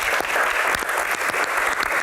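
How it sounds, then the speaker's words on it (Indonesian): Steady applause from a crowd, a dense wash of clapping that holds at an even level throughout. "Tepuk tangan."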